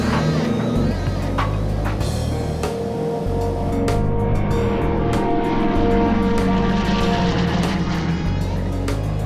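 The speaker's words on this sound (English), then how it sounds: "the right engine with its new cylinder is running smoothly" Steady drone of a piston aircraft engine in flight, a 14-ton plane running its right engine with a new cylinder, a continuous loud hum with low tonal bands and no breaks.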